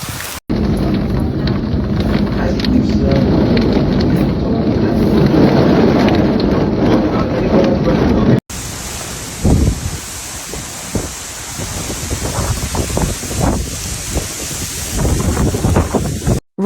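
A summer storm in Edmonton, Alberta roars with heavy rain and gusting wind, a dense loud wash that buffets the microphone, then shifts to a lighter patter with scattered splashes and thuds.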